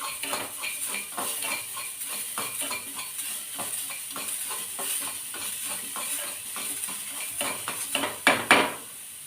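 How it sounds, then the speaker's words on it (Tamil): Roasted coconut, garlic and small sambar onions fry in a pan with steady sizzling and repeated scraping stirs of a metal utensil, growing louder in a few sharp clanks near the end, with no voices. "தேங்காய் வறுத்தது, பூண்டு, சாம்பார் வெங்காயம் இதெல்லாம் ஒன்றா போட்டு ஃப்ரை பண்ணிடுறேன்."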